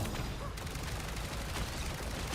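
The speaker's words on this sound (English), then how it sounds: "This is real firepower. Pulse charge. Fire." A pulse charge weapon blasts in Marvel Rivals, a dense, continuous barrage of loud gunfire-like bursts lasting a couple of seconds with no talking over it.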